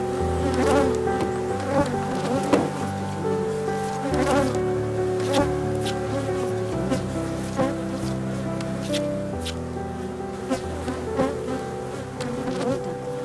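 Honeybees buzz steadily around a beekeeper's stationary hives, a dense, continuous insect drone that fills the whole stretch at even loudness with no talking.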